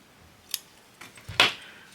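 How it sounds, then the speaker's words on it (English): Small crafting scissors snip a little bit off while a key fob and little purse are being made. A few light metallic clicks are followed by one sharper snip, close and quiet, with no talking. "let's take my scissors, chop this little bit off there"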